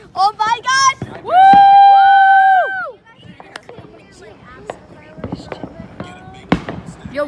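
Fourth of July fireworks mortars bursting outdoors, sharp sporadic booms and cracks mixed with excited shouting and cheering from people nearby.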